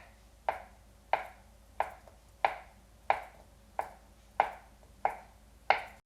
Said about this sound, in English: Then I'm going to cut this crosswise into smaller strips.